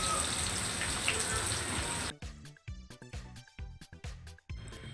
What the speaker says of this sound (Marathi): आता आपण कढीपत्ता कांदा आणि तेजपत्ता हे टाकूया पहिलं आणि कांदा व्यवस्थित भाजून घ्यायचा आहे तेलामध्ये